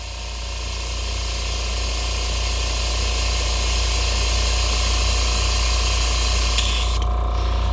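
An airbrush sprays water through to flush out the paint colour, a loud continuous hiss lasting several seconds that cuts off near the end.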